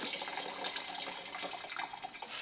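Distilled water pours steadily into the tank of a Sandia 50-7000 carpet extractor, a continuous close splashing trickle with no talking.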